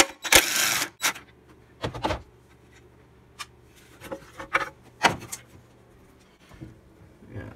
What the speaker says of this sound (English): Okay, so I'm going to take off this silly little cover now.